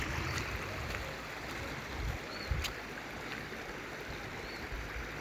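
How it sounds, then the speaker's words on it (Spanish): Water flows steadily through small countryside streams on a ranch, a continuous broad rushing wash close by with no talk over it. "Hay mucha agua en los arroyos, en los arroyitos ahorita."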